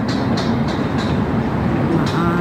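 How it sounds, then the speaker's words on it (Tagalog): A train rolls past near Baclaran Church on a rooftop walk in the city, a loud close rumble with a repeating clickety-clack of wheels over rail joints, about five evenly spaced clacks, continuous throughout. "ayun guys, may tren"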